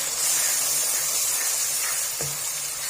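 Green peas roasting in a hot pan with oil, with no ginger or garlic added, give a steady loud broadband sizzle and hiss throughout, with no voices.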